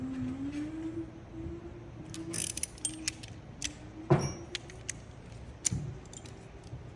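Light metallic clinks and jangles come as 12mm and 10mm wrenches hold a lock nut and tighten a bolt while a motorcycle carburetor is fitted, with a low steady hum underneath and a few sharper taps.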